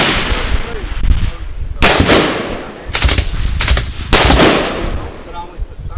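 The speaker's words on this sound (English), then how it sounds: "for the Smith & Wesson 76 with the suppressor on it" A suppressed Smith & Wesson Model 76 submachine gun fires several short, rapid bursts, loud and close, the muffled reports mixed with mechanical clatter.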